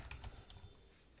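A few quick, faint key presses on a computer keyboard, including the Alt key, as soft scattered clicks in a quiet room.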